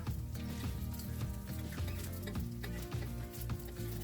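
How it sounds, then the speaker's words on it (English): Vitumbua sizzling steadily in a hot pan as they are turned and tossed over, with light scraping and tapping over a constant frying hiss. "just go ahead and keep turning them like so on the pan and tossing them to the other side"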